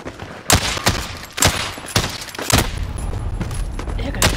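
Rapid bursts of gunfire in a Call of Duty match, several sharp loud shots and volleys spaced through the moment, with a player's voice talking over the game sounds.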